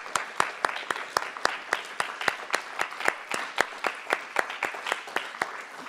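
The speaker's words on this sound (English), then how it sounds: "Let's give them a round of applause." An audience at the U.S. Army Orchestra young artist competition finals for strings claps for the young musicians: sharp, evenly spaced claps in a steady rhythm that runs the whole time, with no voices.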